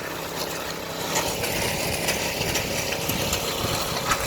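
A 1,000-watt Honda portable generator idles steadily in eco mode with a low, even hum and faint rattle, continuous and moderately close, with no voices.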